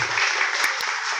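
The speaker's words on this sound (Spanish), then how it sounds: "Fuerte el aplauso para ella." At a graduation ceremony, a crowd applauds steadily in a thick, even roar of clapping, with a couple of brief sharper accents partway through.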